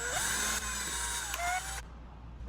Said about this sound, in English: Next step, taking our drill, slow and smooth, doesn't need to go crazy fast on both sides.